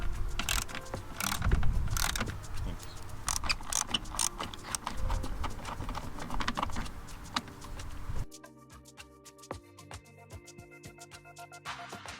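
Ratchet undoing a T30 Torx bolt on a Ford Focus, with dense mechanical clicking and clatter through most of the span, then quieter scattered ticks near the end.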